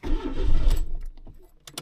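A 1993 Mazda 323 1.6 with a carburetor engine cranks loudly for under a second, then the sound drops to faint, scattered mechanical noises and clicks without a sustained idle.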